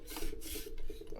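Metal hose clamp on a Chrysler Town & Country heater hose being expanded, giving close, continuous scraping and rasping for about a second with no voices.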